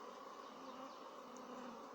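Honey bees in an open hive while frames are searched for the queen, a quiet, even buzzing drone that holds steady throughout.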